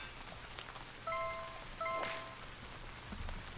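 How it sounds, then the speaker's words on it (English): Steady rain falls in a golf video game, a soft continuous patter broken by a few tonal game chimes. "Get the nice sound of rain to end our stream on"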